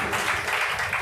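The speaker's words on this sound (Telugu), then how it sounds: "గట్టిగా చప్పట్లు కొట్టండి" A church congregation applauding during a Sunday service, a dense continuous wash of many hands clapping, loud and even throughout a short burst.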